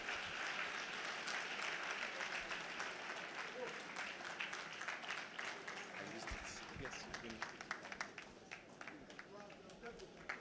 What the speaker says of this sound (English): A round of applause for Mr. Biodun Kolawole.